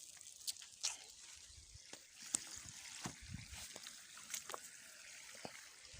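Water from a pipe trickles softly onto spinach and other garden plants, a faint steady dribble with light splashes and no talking.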